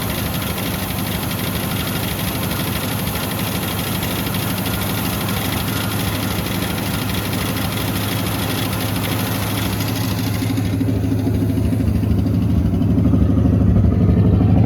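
An old jet-age barn-find engine idles steadily with a busy ticking from noisy hydraulic lifters layered through it, loud and continuous, deepening into a heavier low rumble toward the end.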